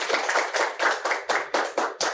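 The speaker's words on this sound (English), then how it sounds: "Give a round of applause to them." Several sharp hand claps in a steady, slightly uneven rhythm, close and fairly loud, like a small group applauding briefly at a policy hackathon.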